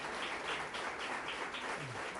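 A church congregation applauds at a worship service, a dense, steady wash of clapping that holds evenly at moderate loudness from start to finish.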